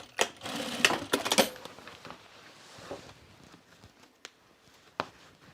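A sewing machine stitching Zen Pants runs in a short, rapid burst near the start, followed by sparse quiet clicks and handling sounds.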